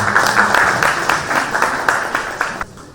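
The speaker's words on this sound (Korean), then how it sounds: "박수로 맞이해 주시겠습니다" Audience applause at a Korean lecture on fine dust policy, steady clapping from a crowd welcoming the second speaker, loud and close, holding for nearly three seconds before cutting off abruptly.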